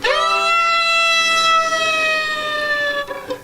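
A siren-like wail played on an instrument in tango style, a sustained harmonic tone that slides slowly downward in pitch over a few seconds, loud and alone without voices.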